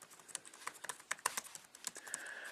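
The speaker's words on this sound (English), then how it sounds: "The keyboard is a chiclet style, and it actually is very comfortable to type on." Fingers type on the chiclet keyboard of a Chrome OS CR-48 notebook: a quick, uneven run of light plastic key clicks, close and clear, with a faint hum underneath.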